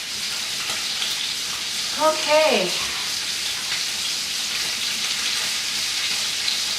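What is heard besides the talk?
butter sizzling in frying pan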